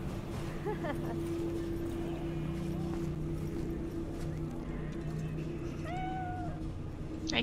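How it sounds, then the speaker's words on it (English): Cat meowing in the video game Cyberpunk, a few short, clear meows in the later seconds over a steady backdrop of game ambience and music. "Hi, kitty."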